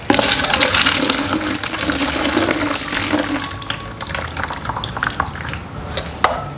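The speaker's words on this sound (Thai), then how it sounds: "เทน้ำร้อนทิ้งนะคะ" Hot water from blanching squid for a Thai spicy squid salad is poured out of a pot, a loud gushing splash that tapers into scattered drips and small clinks.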